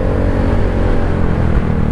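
A motorcycle passes on a road, its engine a loud, steady close drone with strong low rumble and a continuous whirring tone throughout, no voices.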